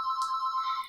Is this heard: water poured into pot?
no